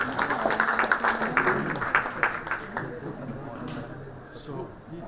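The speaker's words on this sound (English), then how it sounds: "Everyone, can we have a huge round of applause for Dr." Audience applause welcomes a speaker to the stage at a conference session: dense clapping from a crowd in a hall, loudest at first, then thinning and fading out by the end, with some voices mixed in.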